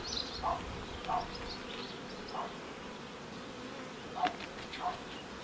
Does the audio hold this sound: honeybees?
yes